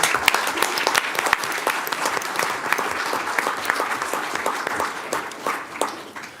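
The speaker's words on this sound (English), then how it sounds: "Let's give them a round of applause." At a county school board meeting, an audience gives teachers a round of applause. Dense, close clapping with sharp individual claps continues steadily for several seconds, then thins slightly near the end.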